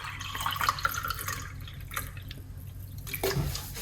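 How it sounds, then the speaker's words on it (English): Water poured into a glass over lemon juice and apple cider vinegar, a light trickling and dripping stream close by, with a brief clink near the end. "pour some water"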